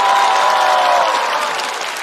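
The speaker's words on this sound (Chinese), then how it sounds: "请锁票，掌声再次送给秋瑞" A studio audience at a stand-up comedy competition show claps loudly and steadily, a dense wash of applause that fades slightly toward the end.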